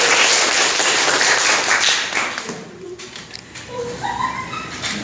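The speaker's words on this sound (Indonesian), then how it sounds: "Oke, tepuk tangan untuk Adi Eko." Classroom applause for a student fills the first half loudly, broadband clapping that thins out after about two seconds; faint chirps and a quiet voice follow.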